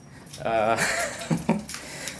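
Keys jangle briefly with a metallic rattle while someone speaks over them, close to the microphone.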